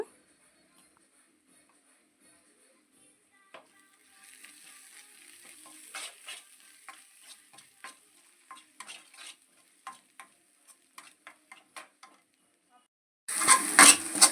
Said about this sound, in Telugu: ఉల్లిపాయ ముద్ద ఉడికిన తర్వాత అల్లం వెల్లుల్లి పేస్ట్ అయితే వేస్తున్నాను